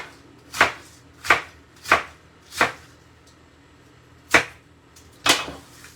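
A knife chops cabbage into bite-sized pieces on a cutting board, with six sharp, close thuds: four evenly spaced, a pause, then two more, and no talk.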